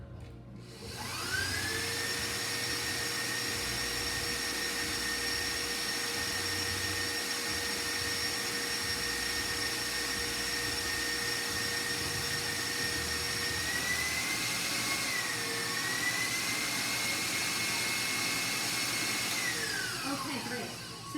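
An electric mixer whirs steadily while mixing tea cake cookie dough flavored with almond extract, a sustained high-pitched motor whine that starts up, runs evenly for about twenty seconds with a slight pitch dip, then winds down.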